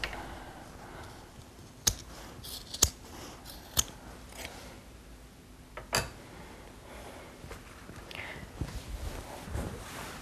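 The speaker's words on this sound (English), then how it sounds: "cut off the edge pieces of your piping using your scissors" A few sharp snips of scissors cutting the ends off fabric piping, spaced irregularly, with soft handling rustles in between; quiet and close up.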